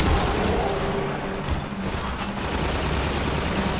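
Continuous gunfire and explosions from the video game Half-Life 2 on a bridge level, a dense, loud barrage of shots and booms filling the whole stretch with no voices over it.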